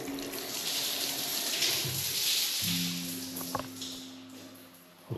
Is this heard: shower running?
yes